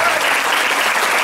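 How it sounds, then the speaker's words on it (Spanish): Brief, dense burst of congregational applause honoring the Virgin Mary at a religious gathering, loud and continuous, a crowd clapping together without talk. "Un aplauso a la Virgen María."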